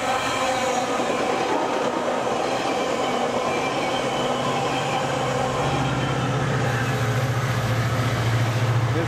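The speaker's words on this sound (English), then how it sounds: "Here comes a train now, a weekend train that's coming from San Bernardino going to Riverside" A Metrolink weekend passenger train heading from San Bernardino to Riverside rolls through Highgrove, a steady loud rumble of wheels and rail clatter with a rising low drone as it passes close by.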